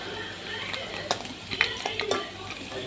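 A spoon or spatula scrapes and taps as chicken fried rice is stirred in a pan, giving a few sharp metallic clinks over a faint sizzle, close and fairly quiet.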